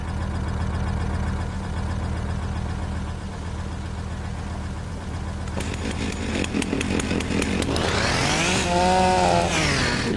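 A chainsaw in Farming Simulator revs steadily, then bites into a tree limb with a rising, straining whine and pitch sweeps, loud and close throughout with no voices.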